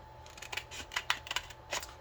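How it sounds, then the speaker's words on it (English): Scissors cut a shape from a sheet of polarizing film for a modified Casio G-Shock GX56 watch, giving a quick series of crisp close snips in an irregular rhythm. "we will cut this shape out"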